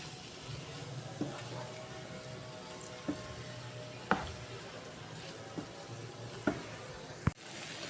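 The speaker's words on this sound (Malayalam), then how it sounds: "എന്നിട്ട് എല്ലാം കൂടി നല്ലോണം കൂട്ടി മിക്സ് ചെയ്യാം." Pasta stirred and mixed in a pan, with a soft continuous background sizzle broken by several sharp scrapes and clacks of a utensil at irregular intervals.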